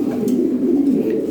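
A single low, throaty coo from a Lahori pigeon, close and clear, drawn out over about a second.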